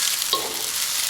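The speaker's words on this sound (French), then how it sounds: "Donc le but c'est qu'elles brûlissent un peu, quoi, hein, faut les frire." Noodles frying in a cast-iron wok give a steady bright sizzle, with one brief scrape partway through, continuous and fairly close.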